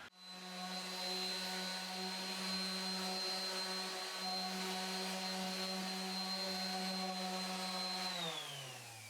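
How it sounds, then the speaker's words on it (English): A random orbit sander fitted with a white buffing pad works finish into a small wooden TV table, droning steadily and loudly with a high motor whine before winding down at the end. "buffing it in with one of the white buffing pads on my random orbit sander"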